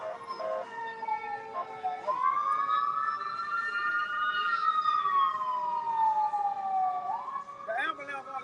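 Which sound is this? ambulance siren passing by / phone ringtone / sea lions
ambulance siren passing by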